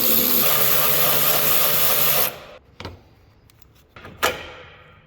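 A power tool whirs continuously on the 10 mm headlight bolts of a 2007-2013 Chevrolet Silverado, then stops, followed by a few sharp metallic clicks and clunks nearby.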